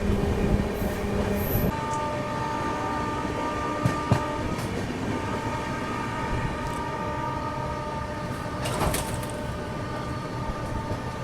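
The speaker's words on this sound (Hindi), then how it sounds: "बिहार संपर्क क्रांति ओवरटेकिंग महाबोधि एक्सप्रेस, नई दिल्ली गया महाबोधि" The Bihar Sampark Kranti Express overtakes the Mahabodhi Express, a loud continuous rumble of rolling coaches with steady rail clatter and drawn-out horn tones near the start and later on.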